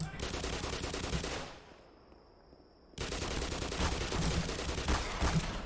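Dense video game gunfire from the Fallout map Vault 128, rapid automatic bursts packed into a loud, continuous roar, briefly dropping away to near quiet before resuming just as heavy.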